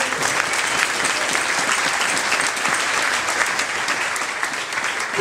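An audience at a children's camp speaker event claps continuously, a dense, sustained applause filling the room evenly for several seconds with no speech over it.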